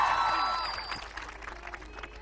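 An audience applauds for a college-campus girl performing on a Hindi TV stage show; a burst of clapping starts fairly loud, then thins and fades over about two seconds.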